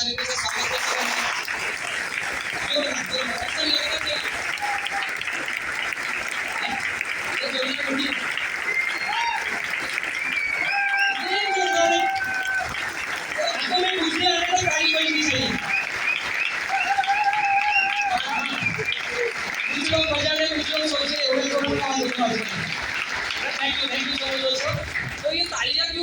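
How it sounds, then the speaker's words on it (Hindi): An audience at a business-plan seminar in Thane, Maharashtra, claps warmly for newly arrived guests, sustained applause filling the room while a voice keeps talking over it. "तो एक बार सारे नए मेहमानों का जोरदार तालियों से स्वागत करते हैं."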